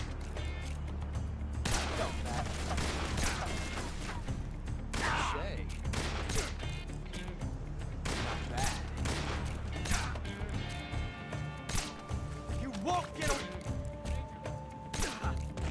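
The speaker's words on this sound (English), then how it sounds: "I'm going to go into auto aim and just shoot him." Gunshots fired at Ocelot in Metal Gear Solid Snake Eater 3D, a series of sharp separate cracks spaced irregularly across the fight, standing out over a steady low game hum and scattered impacts.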